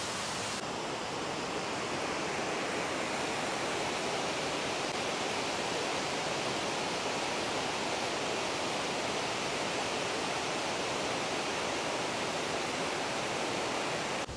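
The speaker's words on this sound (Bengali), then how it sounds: "ঝরঝর করে জল ঝরে পড়ছে। এটা একটা ড্যাম টাইপের বাঁধ আছে, জল ছাড়া হয় এখান থেকে।" Water released from a lake dam in Jhargram rushes and pours down in a continuous, even roar of white noise, with no voices and no break over the whole stretch.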